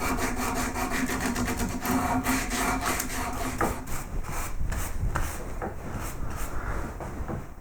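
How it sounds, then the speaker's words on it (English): Hand sanding of carved wooden gadroon moulding, with a rhythmic series of close, scratchy back-and-forth strokes of abrasive on wood, repeating steadily throughout. "Okay, so let's start sanding."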